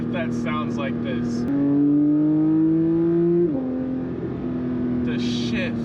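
A Porsche 992 GT3 engine pulls hard from inside the car, its loud exhaust note climbing and then dropping at a clean gear shift, with a person talking before and after.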